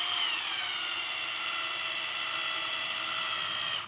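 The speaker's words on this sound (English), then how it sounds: "Then I'll get a good firm grip on the hose, and I'll screw it in until it bottoms out." A bypass filter hose fitting on a 2005-2018 Dodge Ram 2500 is driven in with a 5/8 socket, giving a close, continuous, steady whining mechanical drone with no pauses.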